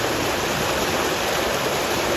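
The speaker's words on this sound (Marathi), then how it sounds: "खूप पाणी आहे इकडनं सगळीकडून पाणी जात आहे" Heavy floodwater rushes steadily at a dam in Shahapur, Thane, after five gates were opened, a loud, continuous broadband roar of flowing water close by with no pauses.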